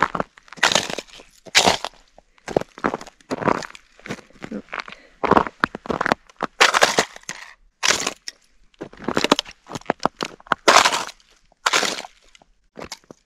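Loud crunching and crackling of snowshoes on icy snow, like brittle ice breaking with each step, in an uneven walking rhythm close to the listener, on a hike in the Angeles National Forest.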